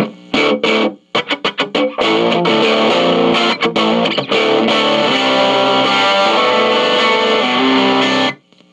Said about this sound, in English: You can just dime the volume out of it. As you can hear, it gets noisy.